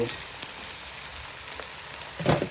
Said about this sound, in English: And you stir fry it.